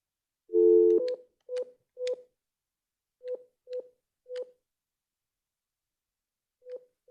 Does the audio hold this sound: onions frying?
no